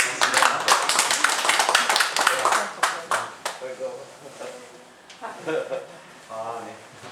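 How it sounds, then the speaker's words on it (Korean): A church congregation at a Korean worship service claps together to welcome newcomers, a dense burst of close applause for about three seconds that gives way to someone speaking. "우리 박수 한번 동의하십시다"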